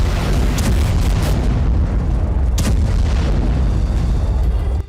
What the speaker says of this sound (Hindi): यह धमाका इतना जोरदार था कि आसपास की जमीन कांप उठी थी।